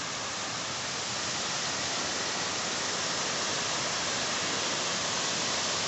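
Water rushing steadily in the Guarros ravine, a mountain stream running high after rain, a dense, unbroken broadband roar close to the microphone with no voices.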